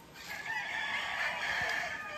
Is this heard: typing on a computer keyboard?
no